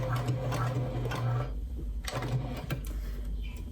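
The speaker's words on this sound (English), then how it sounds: "we're just gonna sew right around" A sewing machine runs in rapid mechanical bursts while stitching around a fabric pouch, stopping briefly between runs before starting again, close and steady.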